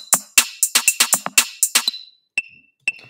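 A programmed drum pattern plays back in the Soundtrap online studio: a quick, close run of crisp kick, snare and cymbal hits for about two seconds, then a pause and two sparse, ringing hits.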